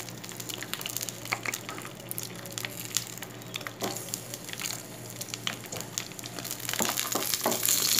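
Garlic clove and onion frying in oil in a pan, a steady soft sizzle with scattered crackles and small pops throughout, fairly quiet and close, no talking.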